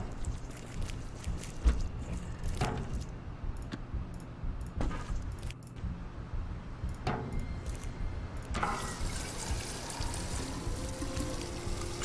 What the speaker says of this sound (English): Back to the gas station. We'll fill up the truck again.